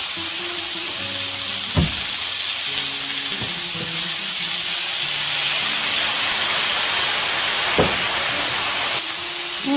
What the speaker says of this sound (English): Onions, caramelizing, and the chorizo